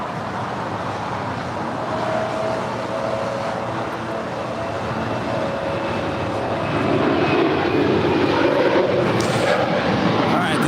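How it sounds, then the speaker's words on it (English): An Emirates Airbus A380 taxis into the gates on the southwest corner of Tom Bradley terminal at LAX, giving a steady, loud, broadband jet-engine roar that swells slightly toward the end, with no voices. "the Emirates A380 now pulling into the gates on the southwest corner of Tom Bradley"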